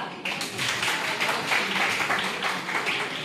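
An audience gives a dense, steady round of applause to welcome a teacher, with many hands clapping continuously at moderate loudness and no talk over it.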